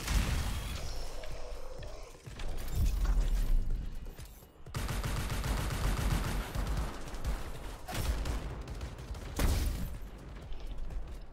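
In the Anthem video game, an overpowered laser weapon is fired at a boss in long sustained bursts of harsh, crackling blasts, broken by short pauses and layered with other combat noise.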